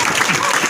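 An audience bursts into a short, dense round of loud clapping, with a voice talking over it.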